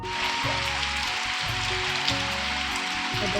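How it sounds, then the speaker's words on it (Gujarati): Heavy monsoon rain falling steadily, a dense broadband hiss of rain at close range, with a low hum underneath and no speech. "એટલા માટે તો વરસાદ ચાલુ છે"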